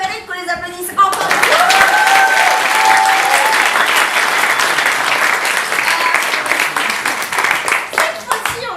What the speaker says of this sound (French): Je crois que ça mérite qu'on les applaudisse encore